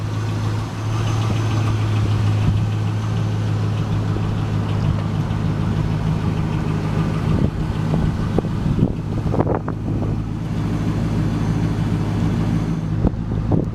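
A 2000 Chevrolet Camaro SS with a six-speed idles outdoors, its V8 exhaust a steady low rumble heard close up with light wind buffeting, followed near the end by a few brief revs and clunks.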